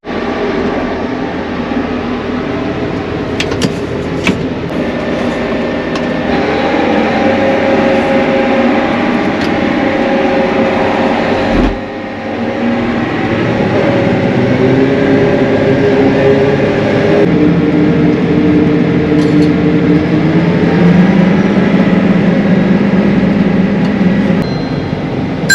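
A tractor drives at about 12 mph across a field of corn stalks. Its deep engine drones loudly and continuously, and the cab rattles and rumbles over the rough ground.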